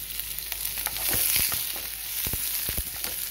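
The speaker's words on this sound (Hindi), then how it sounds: "प्याज को भी हम ट्रांसल्यूसेंट होने तक भूनेंगे।" Onion frying in oil after browned ginger garlic paste, for masala dosa filling: a steady close sizzle and crackle with a few sharper spatters and stirring knocks, no talk.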